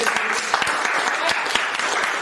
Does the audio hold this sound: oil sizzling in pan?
no